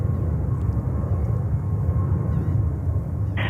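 American 334 heavy, a large airliner, takes off from runway 13 right at JFK Airport, New York, with a continuous low engine rumble and roar that stays steady and fairly close.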